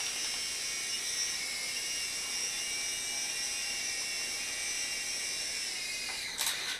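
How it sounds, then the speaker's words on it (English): A small Silverlit Spycam Nano remote-control helicopter whirs with a steady high-pitched motor buzz, constant and fairly close, ending with a brief louder rattle. "This is the perfect helicopter for this landing pad"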